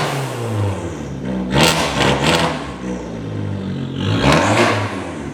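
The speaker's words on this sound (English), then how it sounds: "we're gonna go ahead and give it some revs" The engine of a push car is revved hard twice: sharp, loud rising roars climb and fall back to a clattering idle between bursts, heard up close with no voices.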